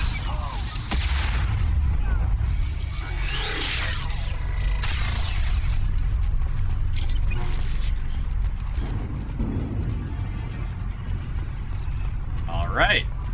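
Heavy shotgun blasts and booming combat in Mass Effect 2, loud and sustained under continuous player commentary.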